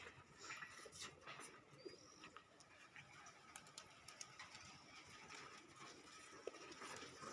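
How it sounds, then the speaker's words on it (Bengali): Pigeons released into the morning sky give soft, faint cooing calls over a steady outdoor background, with no clear wing-flap bursts. "তো কবুতরগুলা দেখেন আকাশে উঠছে"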